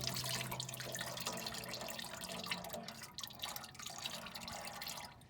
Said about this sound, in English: So we'll let the rest of that oil drain out